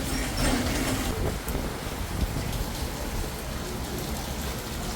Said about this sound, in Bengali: খুব সুন্দর বৃষ্টি হইতেছে